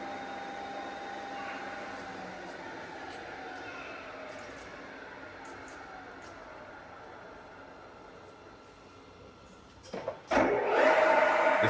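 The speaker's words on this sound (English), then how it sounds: "The spindle speed has been increased to nearby 150 RPM." A TOS FGS 32/40 milling machine spindle turns at about 150 RPM with a faint, steady mechanical hum and whine. Near the end, a louder burst of clatter and machine noise rises abruptly.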